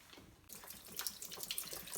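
Tap water runs into a pot being filled for vinegar-and-water pickle brine, a steady broadband rush starting abruptly after a half-second of quiet and continuing close and moderately loud.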